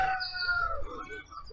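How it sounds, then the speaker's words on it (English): A rooster crows once on a morning in George, a clear drawn-out call with a falling tail, moderately close, with a faint voice underneath. "Chicken is also saying hello there."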